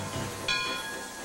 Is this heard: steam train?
yes